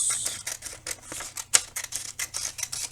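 Scissors cutting the bottom off a folded paper square, a quick series of crisp snips and paper rustles up close, alone without talk.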